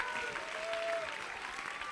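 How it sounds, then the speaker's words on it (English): An audience at the 2019 Classic Tetris World Championship applauds a semifinalist, a steady wash of clapping from a crowd, heard at a distance and fairly faint throughout. "A round of applause for Dan QZ."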